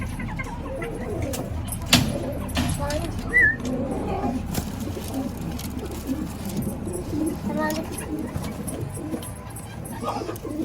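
Pigeons, both desi and fancy breeds kept by a hobbyist, coo softly amid a busy background of other birds, with faint voices nearby.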